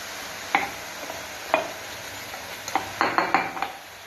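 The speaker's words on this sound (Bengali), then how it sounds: "শুকনো কড়াইতে শাক শাকগুলোকে দিয়ে দেবেন" Jute leaves tossed in a dry wok give sparse scraping clicks of a utensil against the metal, several sharp strokes spaced over a few seconds and a quick cluster near the end, over a faint low hiss.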